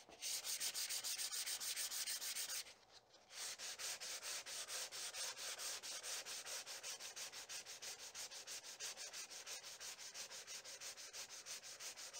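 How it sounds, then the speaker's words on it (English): Sandpaper rubs rapidly back and forth over a wooden self bow with horn tip overlays, in a fast steady rhythm, close and quiet, pausing briefly before resuming. "Got it all sanded up down to 320."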